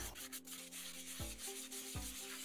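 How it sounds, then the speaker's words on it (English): Rough sandpaper scrubs the outside of a dried bottle gourd in steady, scratchy back-and-forth strokes, close and continuous with no voices. "I've got some rough sandpaper to give the outside a bit of a sand."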